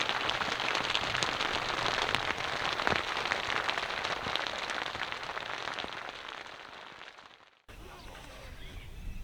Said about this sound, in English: This steady rain will actually probably put us to sleep.